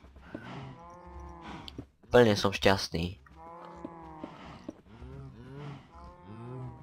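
Cows moo repeatedly in Minecraft, a series of drawn-out, fairly close lowing calls one after another, with a burst of louder noise in the middle and someone speaking briefly.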